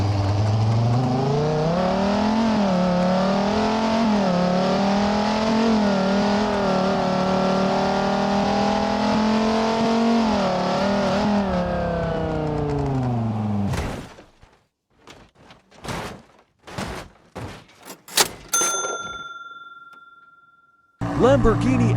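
A Corvette C7 engine runs loud and steady for about fourteen seconds, with its pitch rising and falling as it drives. It then cuts off into a series of sharp clicks and clunks, a door among them, followed by a long electronic tone.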